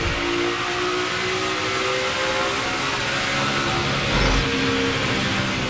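A NASCAR Camping World Truck Series Chevrolet Silverado race truck gears down hard and accelerates away, its engine note shifting and climbing amid steady loud track roar, with no voices heard.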